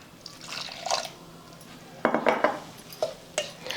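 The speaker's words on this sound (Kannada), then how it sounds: "ಇದಕ್ಕೆ ನೀರು ಹಾಕಿ ಮಿಕ್ಸ್ ಮಾಡ್ಕೋತೀನಿ ರೀ." A semolina, rice flour and salt batter is stirred with water in a bowl, giving wet scraping and clinking sounds in irregular bursts, close and fairly quiet, with no talking.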